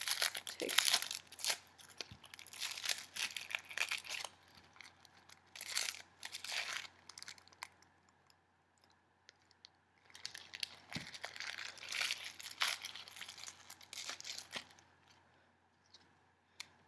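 Thin papery skin is peeled off a halved vegetable in the kitchen, giving faint, close crinkling and tearing rustles in irregular bursts separated by quiet pauses, with no speech.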